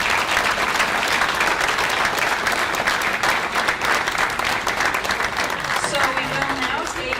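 An audience at an all-candidates forum applauds the candidates, a dense, steady wash of clapping that stays loud throughout, with a voice briefly audible near the end.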